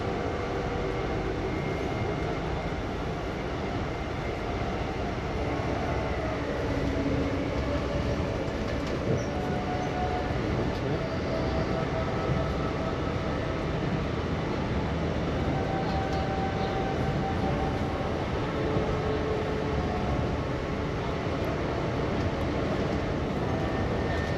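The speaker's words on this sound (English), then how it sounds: "the train is running just north of the Susquehanna River" A steady, continuous rumble of an Amtrak passenger train in motion near Harrisburg, Pennsylvania, with constant wheel and rail noise and faint squeals, heard from inside the carriage.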